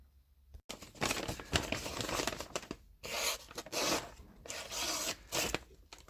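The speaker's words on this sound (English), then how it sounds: "we will grab a piece of paper and we shall show you how sharp the axe is." Fiskars X7 hatchet blade cutting through a sheet of paper, heard as close, dry crinkling and rasping paper sounds in several bursts after a brief silence, with no talking.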